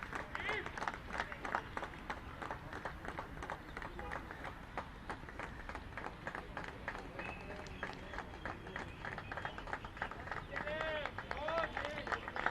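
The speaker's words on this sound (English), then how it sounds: "And greeted with some claps and cheers" A crowd at a Santosh Trophy football qualifier claps and cheers steadily as the Haryana team walks out onto the pitch. The dense patter of applause holds for the whole stretch at moderate distance, with voices faintly mixed in.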